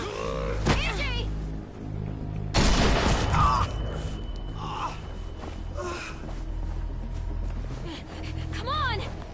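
A loud burst of gunfire in The Walking Dead game erupts amid tense music and effects, with gasping and shouting voices around it.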